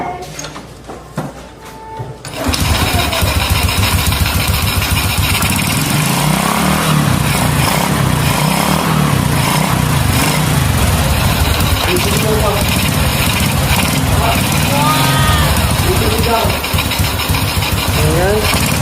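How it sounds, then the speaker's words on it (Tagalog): A motorcycle engine fitted with an added oil cooler cranks and fires after a quiet moment, then settles into a loud, steady idle with rapid, even pulsing that carries on alone to the end. "Start natin yung motor."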